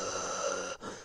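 A voice imitating the deep, heavy breathing of a sick person: one long rasping breath, a brief break, then another shorter breath, close and alone.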